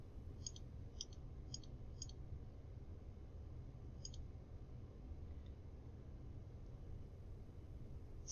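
Short sharp mouse clicks, a quick run of four evenly spaced ones followed by a single later click, faint and close over a quiet steady hiss.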